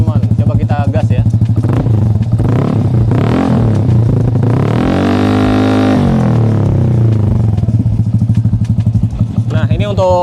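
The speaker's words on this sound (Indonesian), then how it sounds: "Nah ini untuk suara dari knalpot CTRC dari Cgiro teman-teman" Vespa Sprint S 180cc scooter with a CTRC aftermarket exhaust revving loudly up close: a steady idle burble, then a long rising rev that peaks and falls back, followed by more blipping throttle, with a voice talking over it.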